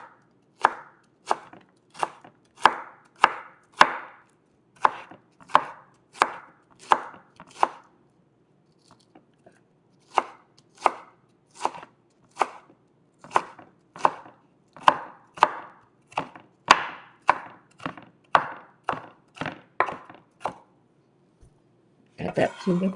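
A knife chops a green onion bulb on a cutting board: a long run of crisp, evenly spaced taps, close and clear, with one short pause in the middle and a brief rustle at the end.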